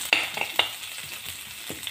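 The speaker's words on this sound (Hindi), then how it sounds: "सबको अच्छे से भूने।" Spices frying in a pan for chana dal puri, a soft sizzle with several sharp stirring scrapes and taps, close and fairly quiet, no talking.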